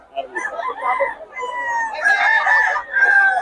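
A hen clucks and squawks close by and fairly loud, a continuous run of throaty, rising cackles with no pauses.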